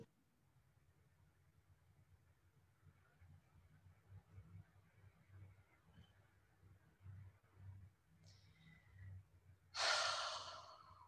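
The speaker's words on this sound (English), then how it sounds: "Breathing deep into the body." Deep, slow breathing close to the microphone, soft rhythmic inhales and exhales rising gradually in strength, ending with a sudden bright, hissing burst.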